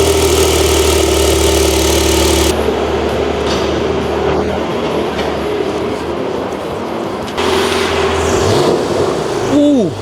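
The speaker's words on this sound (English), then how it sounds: "every time you start the car, the engine comes on." A Porsche 992.2 engine runs at a steady rumbling idle with a sharper, louder stretch partway through and a brief rise near the end, close and prominent.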